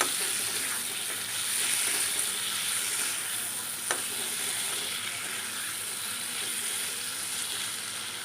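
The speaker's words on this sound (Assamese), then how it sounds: "মাংসখিনি অলপ দেৰি মই ফ্ৰাই কৰি ল'ম।" Local chicken meat frying and being stirred in a pan, a steady close sizzle with soft stirring scrapes running throughout and one brief sharp clink partway through.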